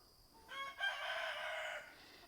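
A rooster crows once in a backyard chicken yard, a brief faint call that rises and then holds briefly before trailing off, heard from a distance.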